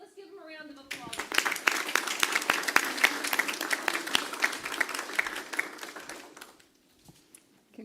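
Audience applause breaks out at a board of trustees meeting, a dense burst of clapping that swells quickly, holds steady for several seconds, then dies away, with a little talk before it.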